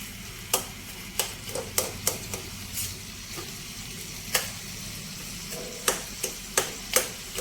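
Spices for a tempering sizzle in hot oil in a pan for a mixed vegetable chutney, with a soft steady crackle under a series of sharp clicks and scrapes from a spoon stirring against the pan, quiet and close.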